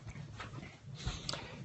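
A pet dog named Ripley whimpers softly indoors in a home, faint whines over low room noise with some shuffling and a brief thump.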